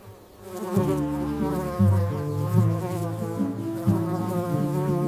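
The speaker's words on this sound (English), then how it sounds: "It's a bee." A bee buzzes steadily and close, a continuous droning hum with a slightly wavering pitch that swells and dips over several seconds.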